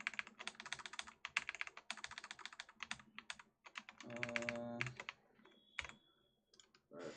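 Typing on a computer keyboard while coding, rapid bursts of close key clicks with short pauses, a brief hum in the middle, no talking.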